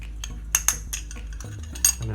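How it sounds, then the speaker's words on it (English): A spoon clinks and scrapes against a bowl while marinated beef is mixed for a beef and vegetable stir fry, with a few sharp clinks over soft, close stirring. "So with my beef now, I'm just going to mix this well"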